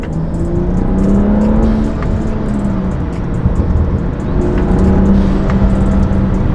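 A turbocharged BMW F30 with an aftermarket MST intake and tune drones loudly at steady revs, rising and falling slightly, with a rumbling exhaust note, burbles, and no voices.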